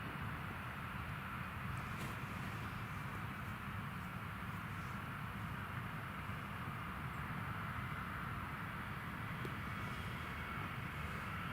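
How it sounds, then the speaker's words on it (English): A British Airways airliner taxis out at Newcastle International Airport, a steady, continuous engine rumble and whine holding at moderate distance throughout with no voices over it. "British Airways just taxiing out now."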